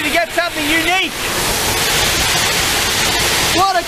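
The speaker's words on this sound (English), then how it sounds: "What a cool little waterfall" Jungbang waterfall on Jeju Island pours as a steady, loud wash of falling water that fills the air, with a voice speaking briefly over it at the start and again at the end.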